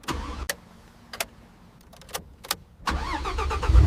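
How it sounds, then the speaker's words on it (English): A few sharp clicks and knocks, then a restored Ferrari's engine fires up and roars loudly and steadily, close by. "The engine starts perfectly"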